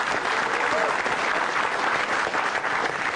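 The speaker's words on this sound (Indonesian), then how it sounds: "langsung aja tepuk tangan yang meriah untuk Ihsan Nur Akbar" Audience applause for a stand-up comedian taking the stage on a televised comedy show, a dense, continuous wash of clapping from a studio crowd that holds steady throughout.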